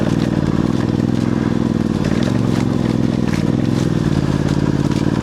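Voge DS625X adventure motorcycle ridden off-road on a loose trail, its engine droning steadily and loud throughout, with gear clatter, gravel crunch and wind noise over the continuous rumble.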